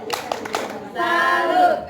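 Mothers at a parenting session perform a "tepuk salut" clapping chant: a quick burst of several hand claps followed by a shout from the group, close and loud.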